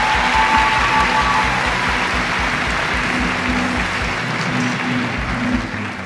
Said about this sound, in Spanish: Fuerte el aplauso, Chichila Navia.